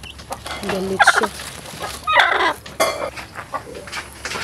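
Backyard chickens, a mother hen among them, cluck in short agitated bursts close by, with sharp squawks standing out and faint clinking in the background.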